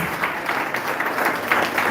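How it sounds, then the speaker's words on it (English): Brief applause from an audience at a business kickoff training event, a short, moderately loud spatter of clapping hands with no speech on top. "let's give him a round of applause for the amazing training that he has given to us"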